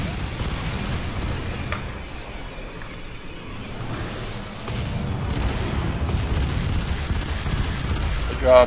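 Sustained gunfire and explosions from the F.E.A.R. 3 video game, a dense continuous barrage of shots with booming low-end impacts that swells louder in the second half.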